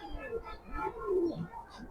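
Racing pigeons cooing softly in a loft, a few low throaty rolling coos close by over faint background noise.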